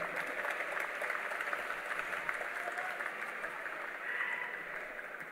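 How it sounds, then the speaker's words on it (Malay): Thunderous applause from a large crowd at a Barisan Nasional youth machinery launch ceremony, a broad, steady roar of many hands clapping that rolls on for several seconds, with faint crowd murmur underneath. "tepukan bergemuruh untuk mereka."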